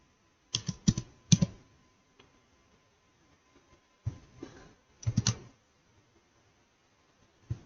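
Keys on a computer keyboard are typed while entering data into an Excel spreadsheet, with two short clusters of quick, close clicks and a few isolated taps between stretches of near silence.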